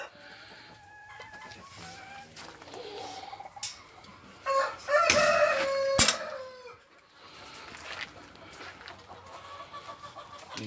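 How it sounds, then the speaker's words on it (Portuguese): A young Cemani rooster lets out one loud, strained crow in the middle, set among quieter clucking and other fowl sounds from a farm coop. "O franguinho começou a cantar"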